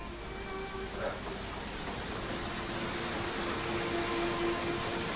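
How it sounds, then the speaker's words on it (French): Steady rain falls, a constant broadband hiss that fills the whole clip, with no talking. "Ça y est, il pleut."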